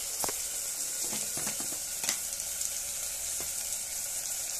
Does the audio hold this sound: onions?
yes